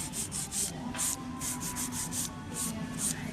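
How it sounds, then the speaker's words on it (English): Electric nail drill shaping a fingernail, a steady high buzzing grind in short repeated passes, close and continuous with no talk. "you're ready to shape it with the drill"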